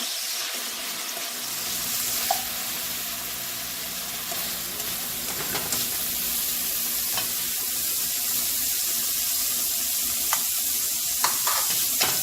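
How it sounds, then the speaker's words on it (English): Onions, garlic, shallots and sun-dried tomato sautéing in meat juice for a stuffed hamburger recipe, a continuous sizzle with stirring scrapes and small clinks, no talking. "I'm going to use this juice to saute the onions, the garlic, the shallots, sun-dried tomato"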